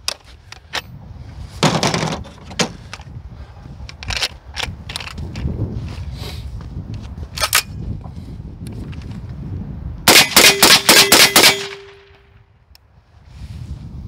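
Sharp rifle cracks from .270 green tip rounds fired at a target ring out as scattered single shots, then a fast cluster of several shots near the end, over low background rumble with no speech.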